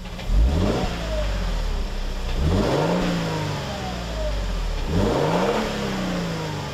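A Lexus LX 600's twin-turbo 3.5-liter V6 revs up three times in a row, each rise swelling loudly and then falling back. It sounds close by, with no talking.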